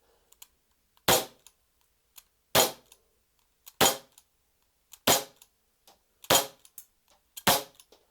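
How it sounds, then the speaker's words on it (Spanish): Six sharp, loud cracks from a Beretta APX BB gas pistol with a metal slide and polymer body, fired at a steady pace about a second apart, with small mechanical clicks between shots. "Vamos a disparar, corredera metálica, cuerpo en polímero, disparador bastante anchito."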